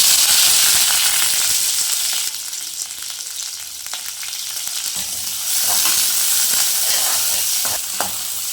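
Onions and curry leaves hit hot oil with popped mustard seeds, giving a loud, continuous close-up sizzle and hiss with faint crackles and stirring, no voices.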